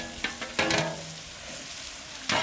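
Snakehead fish dropped into a hot curry pan with cumin, giving a sudden burst of frying sizzle that settles into a steady hiss, with a couple of soft clinks nearby and a second flare near the end.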